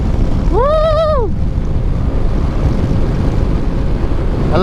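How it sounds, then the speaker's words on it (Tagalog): Strong wind roaring steadily and loudly throughout, buffeting with broadband rush, while a brief rising-and-falling whooping call sounds near the start. "Alas ng hangin."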